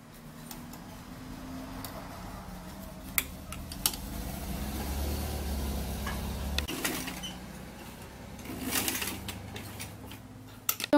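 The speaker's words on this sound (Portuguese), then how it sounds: "agora vamos passar uma costura em cima pra essa beiradinha ficar para dentro" A sewing machine running a topstitch along a fabric edge for a jumpsuit, a close steady mechanical whir that stops briefly and restarts, with scattered ticks and clicks between runs.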